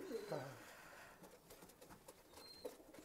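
Pigeons cooing at a pigeon loft, including common sada pura birds, with a low, soft coo at the start and a faint one near the end under quiet background murmur.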